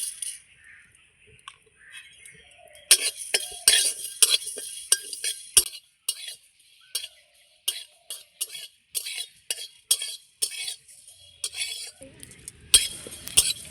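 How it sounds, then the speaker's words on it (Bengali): Panch phoron spices dry-roasting in a dry kadai, with repeated metallic scrapes and clinks of a spoon stirring against the pan in an uneven rhythm, close and fairly loud, with no talk. "1 চামচের মতন 5 ফোড়ন ভেজে নিচ্ছি।"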